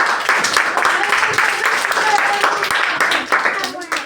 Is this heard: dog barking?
no